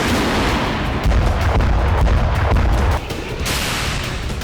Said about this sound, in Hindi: एक ही प्रहार से 10 बमों जैसा विस्फोट